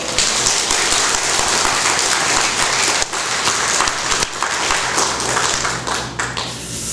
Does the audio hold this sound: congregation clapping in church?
yes